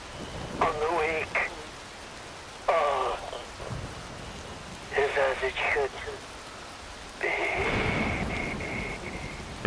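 Steady rain falls in the video game Metal Gear Rising: Revengeance, a continuous wash of moderate hiss, while a voice speaks in short bursts over it.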